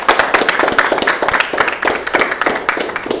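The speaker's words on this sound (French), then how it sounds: "est-ce qu'on peut applaudir pour l'accueillir" Studio audience on a French talk show applauding to welcome a guest: dense, steady clapping from many hands, loud and close, sustained throughout with no talking over it.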